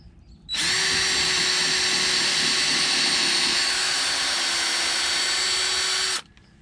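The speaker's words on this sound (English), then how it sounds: "So I'm trying to pre-drill when possible." A power drill pre-drilling wood for deck steps whirs loudly at a steady high pitch for about six seconds, starting and stopping abruptly, close by.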